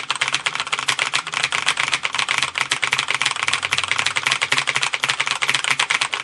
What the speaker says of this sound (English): brown switches, so clack, clack, clack, instead of click,